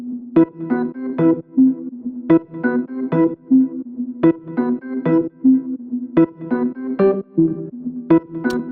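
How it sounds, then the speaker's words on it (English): Layered synth leads and keys for a house drop play a bouncy melodic pattern with punchy plucked attacks over a sustained bass note, full and loud throughout. "Now with the entire stack of the leads and keys, it should sound like this."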